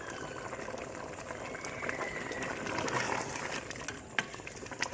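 Ghee bubbling and sizzling in a pot over a high flame while beef qorma is cooked, a soft steady crackle with small popping bursts, moderately quiet and close.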